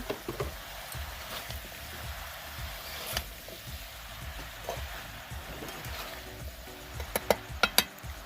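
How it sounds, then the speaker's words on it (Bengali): Chicken skin and calabash curry stirred in a pan, with a soft continuous sizzle under repeated scraping and clinking of a utensil against the metal, and a few sharper taps near the end. "একটু নাড়াচাড়া করে নেব"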